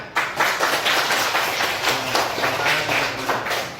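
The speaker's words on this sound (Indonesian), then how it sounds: "Tepuk tangan." Children in a classroom clap in a quick, uneven patter, fairly close and moderately loud, with slight rhythmic surges over a few seconds.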